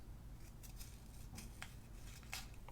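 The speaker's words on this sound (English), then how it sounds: "Let's get my larger scissors." Large scissors snip through paper in a few short, crisp cuts spaced across a quiet indoor background.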